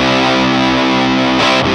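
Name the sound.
electric guitar through Silverfish fuzz pedal with mids cranked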